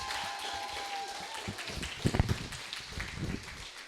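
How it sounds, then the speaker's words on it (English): Applause from an audience at a creative cafe event, moderate clapping that swells midway with some thumps and rustle, heard in a room without talk over it. "can we give another round of applause for that?"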